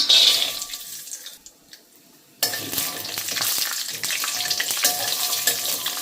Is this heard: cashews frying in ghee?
yes